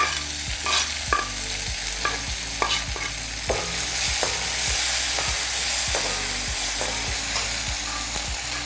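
Small dried shrimp fry in a pan for a Sri Lankan chilli paste, giving a constant close sizzle broken by regular, rhythmic spoon strokes against the pan, with no talking.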